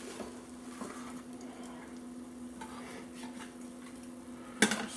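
Fish fillets are lifted out of a T-Fal ActiFry with faint scraping and clinking utensil sounds over a low appliance hum, ending in a sharper metallic clank.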